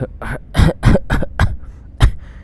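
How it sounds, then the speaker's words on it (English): A video game character with lung cancer in Wasteland 2: Director's Cut coughs in several harsh, rapid bursts, then pauses and lets out one more cough, close and fairly loud. "Goddamn cough."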